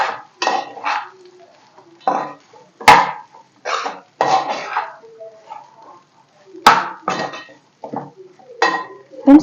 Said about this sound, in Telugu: ముందుగా ఉడికించి పెట్టుకున్న రైస్ని కూడా వేసేసుకోవాలి. ఒకసారి బాగా మిక్స్ చేసేసుకోవాలండి.